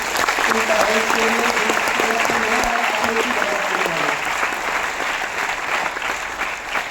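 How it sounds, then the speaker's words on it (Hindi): Enthusiastic applause from an audience, loud at first and gradually thinning out, with a voice briefly heard over it. "एक बार जोरदार ताली होना चाहिए"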